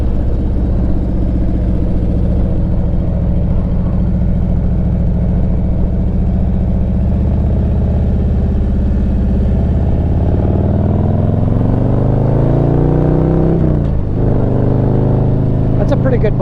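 A 2024 Harley-Davidson Street Glide motorcycle rides with a loud, continuous V-twin engine rumble close to the rider, pitch climbing steadily as it accelerates and dipping briefly around a shift before rising again.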